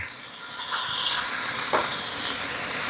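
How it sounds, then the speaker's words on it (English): Chicken legs brown in a soup pot with a constant, fairly loud sizzle and hiss of hot fat, with no talk. "I'm just kind of browning them"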